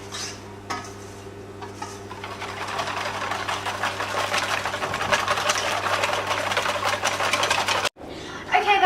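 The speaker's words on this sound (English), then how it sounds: "Now we're just going to add that in and whisk that in." Paleo cake pop batter is whisked steadily in a bowl, a continuous close rattling scrape that builds over several seconds before a brief pause and a final burst.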